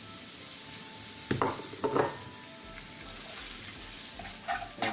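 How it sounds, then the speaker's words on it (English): Beaten eggs and very thinly peeled carrots sizzle steadily in a pan for a Chinese omelette, with a few soft clinks and stirring scrapes over the constant frying hiss. "The eggs and the very thinly peeled carrots start to cook."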